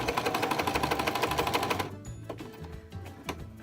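A sewing machine stitching through paper, a fast, even run of rapid mechanical needle clatter that stops abruptly, followed by scattered quieter clicks and handling noises.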